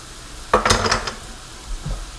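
Green onions and bean sprouts hit a hot wok of lo mein with a sudden burst of sizzling and stirring clatter, loud for about half a second then tapering, followed by a softer scrape of utensils.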